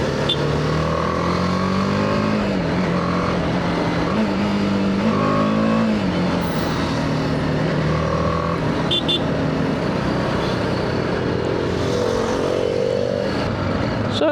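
A BMW G310R motorcycle engine heard while riding, a steady close drone that rises and falls with throttle and gear changes throughout.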